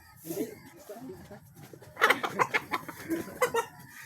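A chicken clucks in a quick series of short, sharp calls, moderately close, after a stretch of quieter background noise.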